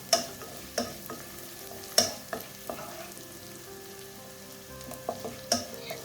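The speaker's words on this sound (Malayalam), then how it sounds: "നല്ലൊരു ഫ്ലേവർ ആട്ടോ കുരുമുളക് പൊടിയും ചതച്ച മുളകും കൂടെ ചേർക്കുമ്പോൾ. ഒന്ന് വഴറ്റിയെടുക്കാം." Red cowpea thoran cooked Kerala style, sautéed over a low flame with pepper powder and crushed chili: a soft, steady sizzle in the pan, broken by sharp spoon clinks and scrapes against the vessel every second or so.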